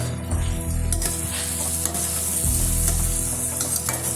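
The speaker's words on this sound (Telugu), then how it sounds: "సాల్ట్ వేయడం వల్ల ఆనియన్స్ త్వరగా ఫ్రై అవుతాయి." Onions frying with salt and turmeric in a pan, a loud, steady sizzle close by with a continuous low hum and occasional stirring clicks running throughout.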